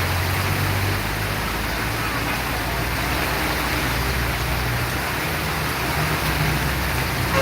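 Steady, dense downpour of heavy rain at a bus terminal in Palembang, loud and continuous throughout with no pauses or voices.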